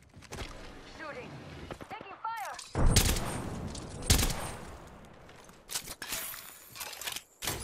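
Gunfire in the Apex Legends video game arrives as loud bursts and single shots mixed with game effects, while a player talks over the action.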